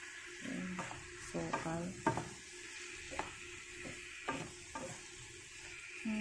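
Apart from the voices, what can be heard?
stirring syrup in a pan so it won't burn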